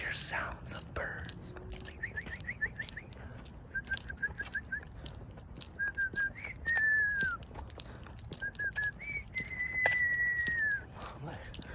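A person whistles short trilling and cooing phrases outdoors at night, imitating birds, in a series of repeated bursts and longer sliding notes, close and moderately loud.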